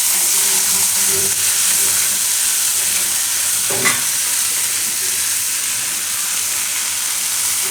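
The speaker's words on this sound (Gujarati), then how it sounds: "હવે એમાં આપણે નાખી દઈશું આ દાણા. મિક્સ કરીશું." Corn kernels drop into melted butter in a pan and get stirred, giving a steady loud sizzle and hiss throughout with a faint scraping stir partway through.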